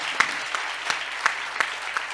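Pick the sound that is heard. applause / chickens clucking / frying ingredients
applause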